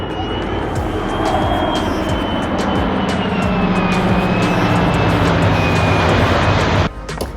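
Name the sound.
aircraft flying at EAA AirVenture Oshkosh air show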